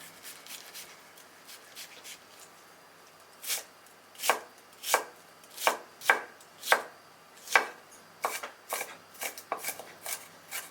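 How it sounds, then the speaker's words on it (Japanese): A kitchen knife minces a quarter onion on a cutting board: quiet scraping at first, then a series of sharp, close chops in an irregular rhythm, a dozen or so distinct strikes. "縦横に包丁を入れてから端から刻んでいくとみじん切りになります"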